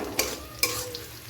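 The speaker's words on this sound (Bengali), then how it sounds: "পেঁয়াজটা একটু লাল লাল করে ভাজার পরে তারপরে টমেটো দেবো।" Onions fry in a pan with a faint, quiet sizzle beneath two sharp scrapes of a spatula stirring them.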